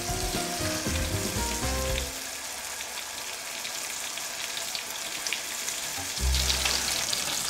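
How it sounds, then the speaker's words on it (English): Lightly breaded veal loin chops fry in a hot oil and butter mixture in a heavy skillet, sizzling and crackling steadily and close, with a louder burst of spitting at the start and again near the end. "Brown on each side in the hot oil butter mixture for 3 minutes."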